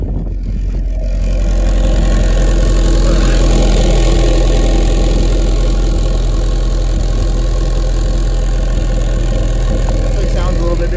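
A turbocharged Honda Civic engine idles steadily and loud close by, a low rumble with a slight knocking texture, while people talk over it.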